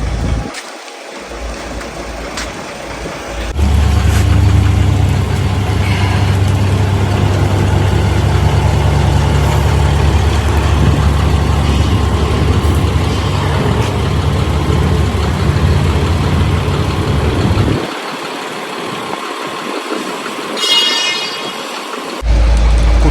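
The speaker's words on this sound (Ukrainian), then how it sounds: "Зараз продемонструємо вам підйом з відчиненим клапаном." A DAF CF85 tractor unit converted to a dump truck runs its engine steadily while the tipper body is raised, a loud continuous mechanical hum and drone that drops away near the end, with no talking.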